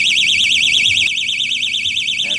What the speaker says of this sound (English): The system goes into alarm.